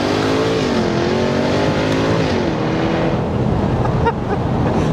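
A Jaguar F-Type V8 revs loud and close, its engine note swelling and falling in sweeping pitch, with a sharp pop near the end standing out above the roar.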